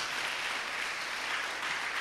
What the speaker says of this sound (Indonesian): Tepuk tangan dulu untuk Tuhan Yesus.